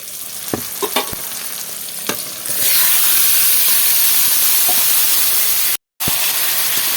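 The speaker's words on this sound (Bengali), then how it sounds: "এবার মাখিয়ে রাখা মাংসটা আমি ঢেলে দেবো" A short stretch of quiet clatter gives way to a loud, steady sizzle as marinated meat hits hot oil in a frying pan, hissing continuously with one brief cut.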